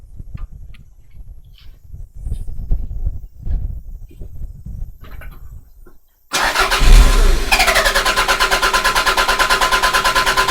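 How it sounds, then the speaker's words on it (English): A Toyota MR2 with a starting and stalling fault: after several seconds of quiet rustling, the starter kicks in loudly and cranks on in a fast, regular rhythmic pulse, close by and dominating to the end. "I'm going to keep cranking this time"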